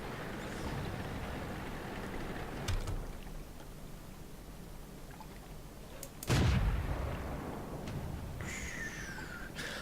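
Tank cannon fire from a French SAu 40 tank destroyer in World of Tanks, with one heavy booming shot standing out and a fainter earlier report over a steady engine and ambient rumble.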